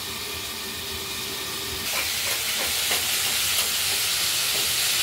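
Spice paste for a cauliflower curry with potato, coriander and tomato hisses and sizzles steadily in a pan. Stirring scrapes and crackles grow livelier about halfway through, with no talk.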